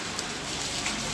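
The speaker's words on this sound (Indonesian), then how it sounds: "Hujannya gede banget." Heavy rain pours steadily onto surfaces in a dense, unbroken hiss while travellers shelter on the road toward Mount Tambora, loud and close with no other sounds.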